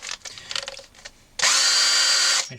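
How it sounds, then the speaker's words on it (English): A small power drill bores into the wood body of a Harley Benton Telecaster guitar. It whirs loudly and steadily for about a second, after a quieter stretch of handling clatter. "So I've got my little small drill."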